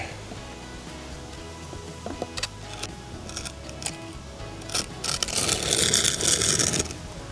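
A tool scrapes forward across a DIY patio surface outdoors. Faint scattered clicks and knocks lead into a louder, rasping scrape near the end, with no talking.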